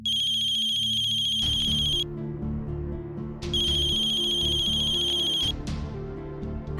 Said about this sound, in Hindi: आई थिंक मेरा फोन बज रहा है।